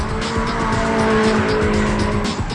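Drift cars such as Toyota AE86 Hachirokus, Nissan Silvias and 180SXs scream past at a Japanese drift event, with loud, sustained tire squeal over revving engines, close and continuous.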